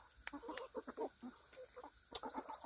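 A backyard flock of black-and-white hens and Easter Egger chickens clucks softly close by, a quiet string of short, uneven calls.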